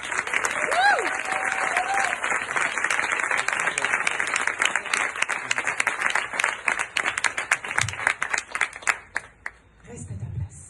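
An audience at a Women's Day trophy award ceremony claps loudly and densely for several seconds, then the clapping thins into scattered claps and stops near the end. A brief voice sounds at the start.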